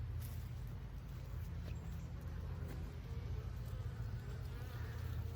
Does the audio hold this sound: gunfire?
no